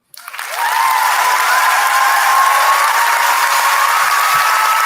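Sustained audience applause following a TEDx presentation, rising quickly and holding as a dense, steady wash of clapping across the room.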